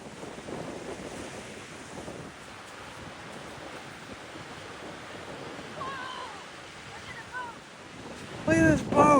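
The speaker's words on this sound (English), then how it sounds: "It's a little windy!" Wind blowing steadily across a beach mixes with surf, a constant broad rush with brief voices near the end.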